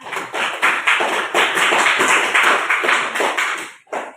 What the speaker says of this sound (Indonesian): Mari kita berikan tepuk tangan untuk kelompok 1